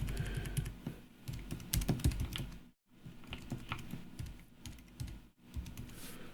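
A file name is typed on a computer keyboard in close, quick bursts of key clicks, with two brief pauses and no speech.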